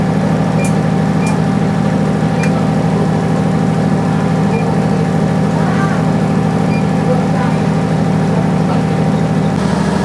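A water treatment plant's backwash system runs with a loud, steady, continuous mechanical hum and drone, close and unbroken from start to finish, with faint clicks over the top.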